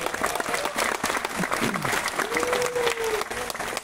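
Audience applause at a marketing meeting in Guwahati, continuous crowd clapping with a voice briefly sounding over it.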